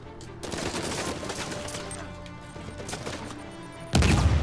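Rapid bursts of video game gunfire in Uncharted 4 crackle at moderate volume, a sustained volley with scattered shots, ending in a louder sudden blast.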